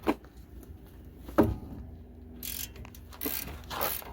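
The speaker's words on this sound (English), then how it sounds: "Now we can go ahead and remove our caliper bracket, and those two bolts are the 18 millimeter." A ratchet clicks in short bursts while loosening the 18 mm caliper bracket bolts on a GMC Terrain's front brakes, with a sharp metallic knock near the start and rapid close pawl clatter toward the end.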